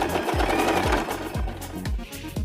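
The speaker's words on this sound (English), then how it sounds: "I will sew here using regular stitch." A sewing machine running a regular straight stitch through fabric for a turban headband, a close, steady mechanical whir with an even, rapid beat of needle strokes.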